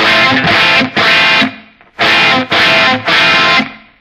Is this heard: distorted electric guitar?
yes